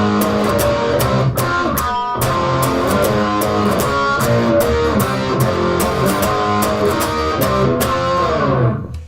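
Electric guitar plays a big riff, strummed power chords in a steady driving rhythm with sharp accents, loud and close, with no one speaking.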